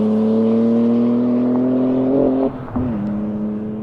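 2025 BMW M2 with a manual gearbox driving off, its engine note climbing steadily and loud up close before a brief drop at the shift, then settling into a lower drone.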